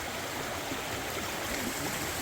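Water of a stream flows steadily beneath a bridge on the Appalachian Trail, a continuous broadband rush and babble, fairly close and even in level throughout, with no voices.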